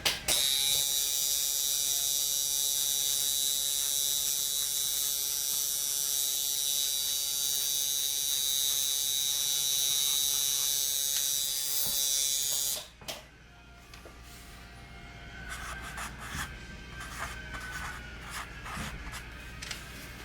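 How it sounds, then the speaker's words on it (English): A coil tattoo machine tuned with a 22 µF capacitor hums with a steady, smooth electric buzz at close range, then cuts off abruptly, leaving faint clicks and handling noises. "So not only does my machine sound a lot smoother, but it's also running faster"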